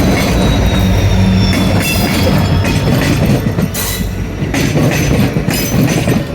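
A passenger express train runs along the rails on a Western Ghats route through Punalur and Kottarakkara, a loud, close, steady rumble with rhythmic clacking and intermittent high wheel squeals.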